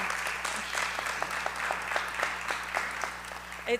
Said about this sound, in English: And I would love a round of applause for Donna Melcher and everybody who's worked